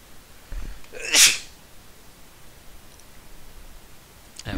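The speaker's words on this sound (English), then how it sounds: "I would like to not sneeze." A single sharp human sneeze bursts out loudly and close near the start, followed by quiet room tone and faint rustling.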